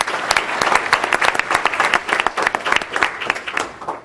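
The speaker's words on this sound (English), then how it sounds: "Amy, this round of applause is for you." An audience at a school board meeting claps for a graduating student being honored, a steady stream of sharp individual claps building into fairly loud, close applause that continues throughout.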